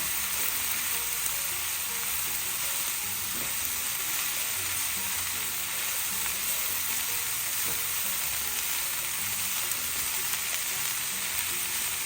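Pancit noodles fry in a pan with a steady, dense sizzle throughout, joined by faint scraping and stirring clatter underneath.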